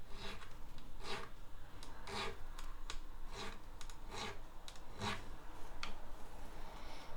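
Guitar fret edges being filed and polished: quiet, steady rasping strokes repeat about twice a second in a close, even rhythm with no talking.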